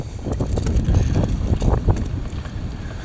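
Strong wind gusting to about 40 at Kinkaid Lake buffets the microphone in loud, uneven gusts, a rough low roar that swells and fades over a few seconds.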